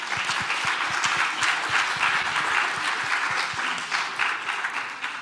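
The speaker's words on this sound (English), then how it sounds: "applause to Josep Manuel." An audience at a scientific meeting on the Gaia NIR mission applauds a speaker. The clapping is dense and sustained across the whole stretch, room-filling and steady, with no voices over it.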